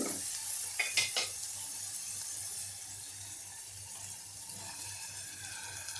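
Ground masala paste sizzles in a pan as it is sautéed, with a steady soft hiss throughout and a few quick stirring scrapes near the start.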